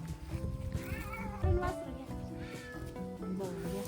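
A cat meowing on a farm near a calf, several short drawn-out meows close by, with people talking alongside.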